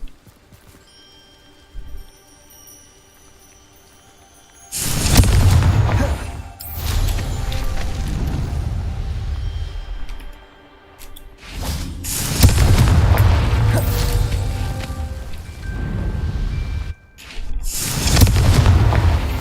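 Confringo blasting spell explosions in Hogwarts Legacy on PS5, several loud booming blasts bursting in after a quiet stretch, each followed by rumbling tails, with music faintly underneath.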